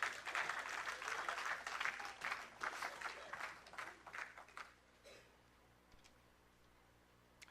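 Church congregation applauding the Lord in acclamation, a dense, close burst of many hands clapping that carries for several seconds and then stops abruptly, leaving only a few faint stray claps.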